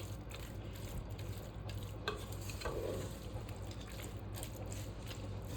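A spoon stirs spring onion curry in a pan over a steady sizzle and hiss, with a few soft scrapes and knocks against the metal mixed into the continuous cooking noise.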